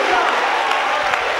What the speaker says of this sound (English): Clap your hand and say hallelujah today